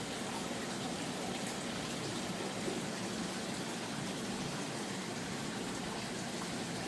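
Water flows steadily through a garden bed, a constant hissing, trickling wash that stays even and moderately loud with no pauses.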